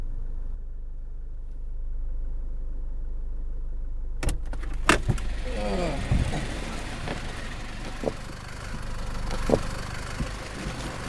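Car engine hum and road rumble inside a taxi on a short journey, a steady low drone that rises after a few seconds with door or key clatter and interior knocks, while people talk now and then.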